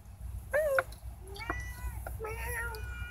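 A cat meows indoors, several short rising and falling calls in a row, close to the microphone and fairly loud over a low background hum.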